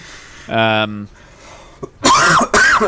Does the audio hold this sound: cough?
yes